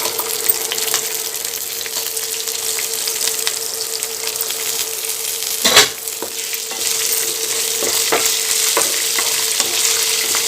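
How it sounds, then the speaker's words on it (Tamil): Ginger and garlic fry in hot oil with a steady, close sizzle, broken by an occasional stir or clatter of a spoon against the pan. "நல்லா எண்ணெயிலே நல்லா வதங்கணும்."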